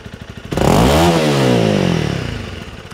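Honda CRF300L motorcycle with a MotoX exhaust at idle, then snapped to full throttle for about a second: loud, close, rising roar that peaks and falls back as the revs drop.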